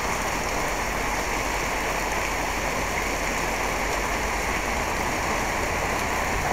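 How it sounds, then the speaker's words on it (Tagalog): Heavy rain pours steadily as a dense, unbroken hiss, loud and close, with no pauses or other sounds standing out. "Takbuhan sila dahil malakas ang ulan dito."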